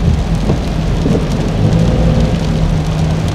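Heavy rain pours steadily in Davao City with thunder rumbling low beneath the constant hiss, loud and close with no voices.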